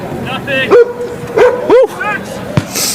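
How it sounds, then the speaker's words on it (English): Dogs bark several times at a rugby match between the Vikes and JBAA, sharp yips and bow-wows standing out over a sports commentator's continuous talk and crowd ambience. "You hear the dogs barking."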